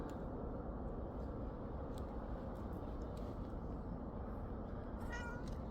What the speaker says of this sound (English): She's definitely got a different meow compared to her sister. It's more of a deeper meow.